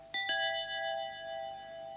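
A doorbell chimes twice in quick succession, two bright ringing tones that layer and then hang, slowly fading over a quiet indoor background.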